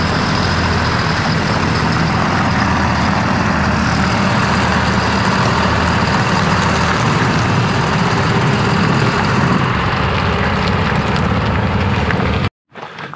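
A truck's heavy engine rumbles steadily at close range, loud and unbroken as the vehicle is driven into a garage, then cuts out abruptly near the end.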